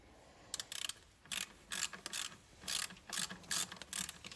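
Ratchet with an E12 socket working on a Porsche 911 Carrera 4S engine bay, a close series of rapid clicking ratchet bursts in uneven groups, no talking.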